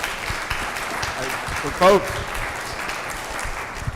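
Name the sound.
audience applause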